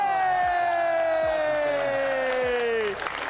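Crowd at an RLCS Rocket League watch party cheers and whoops in a loud sustained roar, with a shrill whistle-like tone sliding downward over it, fading out near the end.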